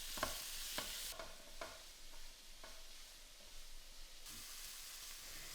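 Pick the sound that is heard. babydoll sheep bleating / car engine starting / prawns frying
prawns frying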